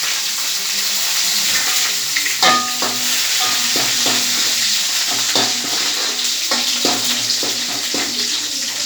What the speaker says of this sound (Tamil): எண்ணெய் பொரிச்சு கையிலே விழுகுறா சாமி.